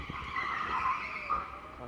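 Go-kart tyres skidding with oversteer on an indoor track, a short sustained squeal close by with engine noise beneath and some voice over it.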